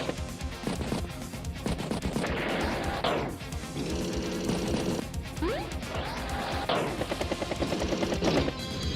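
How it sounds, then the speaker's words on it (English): A Neo Tank attacks an anti-air unit in the video game Advance Wars by Web, with a dense run of loud crashing impacts and rapid gunfire-like bursts repeating steadily for several seconds, with no talk. "Neo Tank strikes anti-air."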